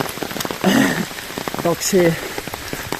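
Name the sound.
rain falling in Normandy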